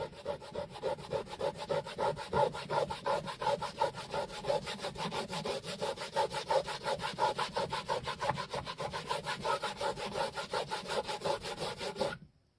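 Steady, fast back-and-forth rubbing across an electric skateboard deck to lift dirt, a close, continuous scratchy scrubbing rhythm lasting about twelve seconds before stopping abruptly, with no talking.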